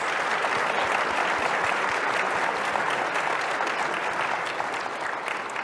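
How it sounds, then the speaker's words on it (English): Audience applause for panelists at an annual outlook event, a dense, even patter of clapping from a seated crowd lasting several seconds, with no talk over it. "Let's get a round of applause for our panelists."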